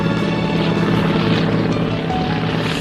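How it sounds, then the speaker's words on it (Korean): An aircraft flying overhead in support of flood-damage embankment construction, a steady loud engine and rotor-like drone filling the whole stretch with no voices. "제방공사를 위해 비행기가 하늘을 날았습니다"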